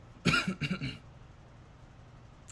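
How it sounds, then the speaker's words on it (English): A single close cough bursts out in three rough hacks, then fades to quiet room noise. "That was a good cough."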